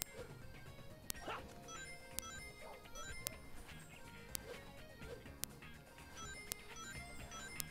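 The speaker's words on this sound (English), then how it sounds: "I hear a dog barking." A dog barks a few times at a distance in Sonic Unleashed on PS3, mixed into busy game music with sharp periodic clicks and a steady electronic backdrop.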